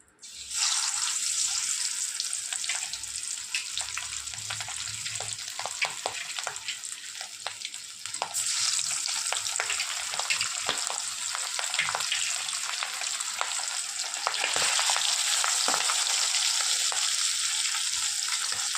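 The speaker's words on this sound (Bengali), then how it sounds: "তেল খুব ভালো করে আমি গরম করে নিয়েছি এবার আমি মাছগুলোকে একে একে ভাজতে দিয়ে দেব" Pieces of hilsa fish hiss and crackle loudly in hot oil, a dense continuous sizzle with occasional spatters and faint clinks, rising again as more pieces go into the pan.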